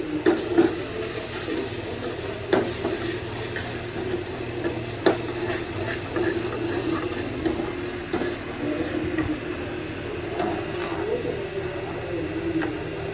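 Tadka tempering sizzles in a pan in a home kitchen, a steady crackling hiss with occasional clicks and stirring clatters, no voices.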